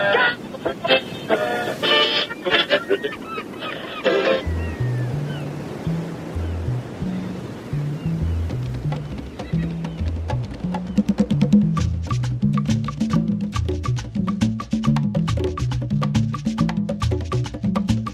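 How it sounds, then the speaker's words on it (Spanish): A rough Caribbean sea roars with waves breaking and surging at close range. After a few seconds a loud music score joins in and carries on above the continuous wash of the surf. "Ruge la mar embravecida. Rompe la ola desde el horizonte"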